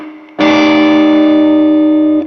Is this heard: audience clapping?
no